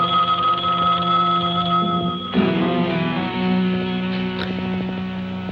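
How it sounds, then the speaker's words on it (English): A telephone bell rings loudly and steadily in a tense crime-drama scene, its sustained electric tone carrying through the whole stretch with no one talking over it. "answer the phone"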